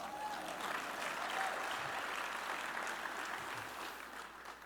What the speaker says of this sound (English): We can clap for them, y'all, come on.